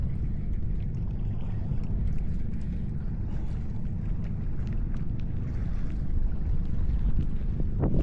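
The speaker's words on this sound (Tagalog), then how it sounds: "kontra tayo sa hangin" Steady wind buffets the microphone with a low, continuous rumble and roar that swells slightly near the end, heard close over open water at Mercedes Island during fishing casting practice.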